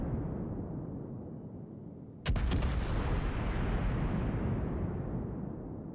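Battleship guns fire in a naval video game. A steady low rumble is broken by one sudden, loud salvo boom with a sharp crack, followed by a long, rolling decay.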